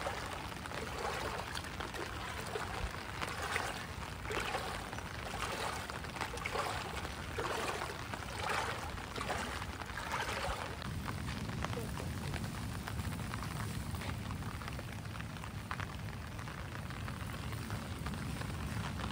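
Steady light rain falls over a flooded village river among green fields, making a continuous close pouring and trickling wash of water, with a faint voice briefly under it.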